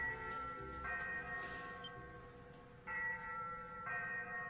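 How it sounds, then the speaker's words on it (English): Ship's bell aboard the ghost ship Eleftheria in Ys VIII rings in slow, sustained metallic peals with lingering overtones, a few strikes at uneven intervals, moderately faint and echoing. "The ship's bell?"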